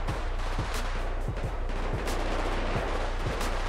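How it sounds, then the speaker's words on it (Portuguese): Rapid gunfire in the video game GTA V during a gang war, with repeated sharp shots and bursts over a constant low background hum, fairly loud throughout. "Já começou já a trocar tiro."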